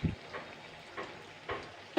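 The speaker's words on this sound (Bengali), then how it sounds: "কড়াইতে যাতে লেগে না যায় সেই জন্য আমি এখানে চায়ের কাপে হাফ গ্লাস মতন জল দিচ্ছি" Water splashed into a hot pan of fish-oil curry sizzles softly with a low hiss, broken by a few quiet bursts of crackle and stirring.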